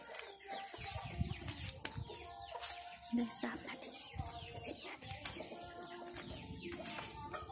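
Ducks and chickens penned for sale at a busy rural market, their chirps, clucks and coos running steadily throughout amid crowd noise and nearby talking.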